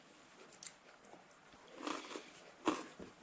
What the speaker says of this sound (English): chewing noises can be pleasant if they're done right